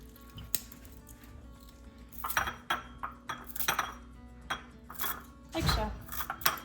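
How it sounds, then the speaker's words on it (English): Garden chives being chopped with a knife on a board in a home kitchen, a run of sharp uneven taps and clicks that thickens into quicker bursts, with faint background noise between strokes. "And I'm going to chop them up."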